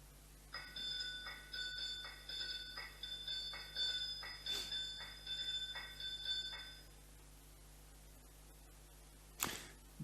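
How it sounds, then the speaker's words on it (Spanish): Metal mortar (almirez) struck as an idiophone, ringing in a steady series of bright, bell-like metallic strikes with lingering tones, about a dozen hits in rhythm, then silence and one sharp final clank. "es un idiófono y es un almirez"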